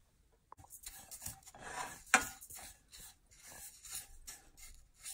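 Grated coconut roasting in a pan for a coconut laddu, stirred with a spatula, giving a close, steady dry rasping and scraping with uneven strokes and one sharper knock partway through.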